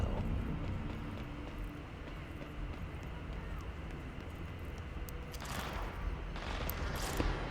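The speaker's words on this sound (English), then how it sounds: "Oh, gunfire." Distant gunfire from the video game Control comes through as scattered muffled bursts over a constant rumbling in-game ambience, growing busier toward the end.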